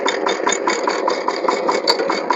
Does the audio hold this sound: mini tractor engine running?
yes